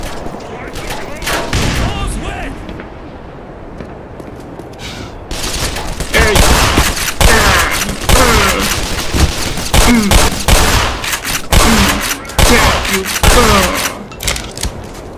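Dense bursts of gunfire and explosions fill a firefight in the video game Black Mesa, loud and rapid with overlapping shots, while voices call out over the combat.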